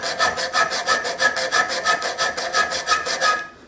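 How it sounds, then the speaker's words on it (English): A hand file rasping notches into the spine of a damascus steel knife, fast even back-and-forth strokes with a bright metallic edge, close and loud, stopping abruptly at the end. "I'm going to file every other mark"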